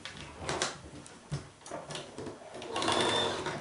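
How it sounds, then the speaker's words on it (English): A sewing machine stitches two rows of a festive tulip quilt block together, a fairly close, steady mechanical whirring that starts and stops in short runs before building into a longer, louder stretch of sewing. "they're going to be sewn together like this"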